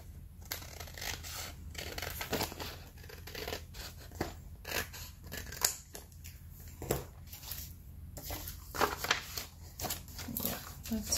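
Scissors snip across the top of a paper envelope for a junk journal, with a series of close, crisp cuts and paper rustles that come in irregular bursts.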